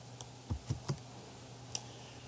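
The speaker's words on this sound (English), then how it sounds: "I'm going to type a plus sign" Typing on a computer keyboard: three quick close key clicks in a row, then a single keystroke a moment later, quiet against a soft room hum.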